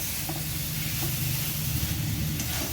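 Cauliflower curry frying in a pan while being stirred with a spatula, giving a steady, loud hiss and sizzle with faint scraping throughout.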